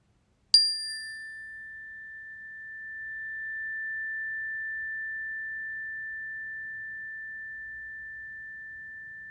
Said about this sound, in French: Je vais sonner la cloche et écouter.